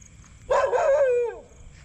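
A single drawn-out dog yelp with a falling pitch rings out close by for about a second, with quiet before and after.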